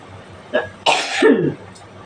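A person coughs a few times in quick succession, close and fairly loud, ending with a rough throaty hack.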